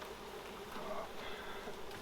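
Agitated honeybees buzz around an opened hive with a brood-filled flow super, making a dense, steady swarm drone up close with no voices.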